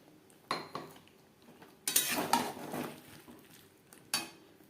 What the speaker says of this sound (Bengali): পোস্তর পেস্ট বেশ ভালো করে মিক্স করে দেব।